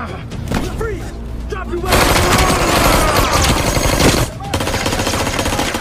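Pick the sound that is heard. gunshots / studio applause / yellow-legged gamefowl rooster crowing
gunshots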